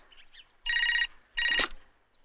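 A telephone rings twice in electronic trilling bursts with a pause between, the second ending in a sharp click.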